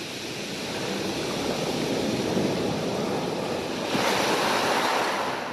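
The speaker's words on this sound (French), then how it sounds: "Ces vagues douces qui déferlent sur ces rochers favorisent une forte activité de pêche." Gentle sea waves breaking on coastal rocks, a steady close wash of surf with a swell of louder breaking toward the end, mixed with wind noise on the microphone; no voices.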